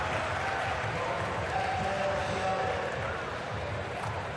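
Skatepark crowd at a Street League Skateboarding contest in Seattle, a dense, sustained roar of cheering and applause, broad and steady, with talk mixed in.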